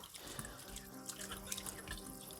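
Tap water runs steadily over a sharpening stone used for refreshing a straight razor, a close, continuous splashing stream with small drips, no talking.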